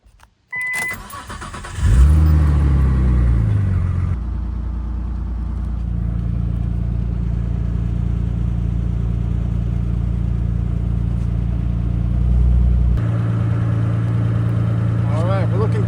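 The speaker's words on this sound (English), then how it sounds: "Maybe start the car." A car engine cranks and catches after a brief pause, surging loudly before settling into a steady, close idle that hums on evenly, with a slight rev near the end.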